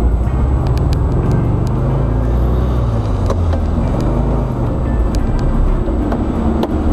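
A 1972 VW Karmann Ghia's engine runs steadily while driving on a test drive, a continuous low, throbbing rumble close up with small rattles, no talk.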